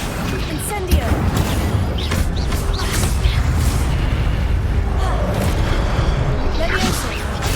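Spell-casting effects in Hogwarts Legacy, rapid booms and crackling bursts repeating over a dense, rumbling combat soundscape, with a player talking throughout.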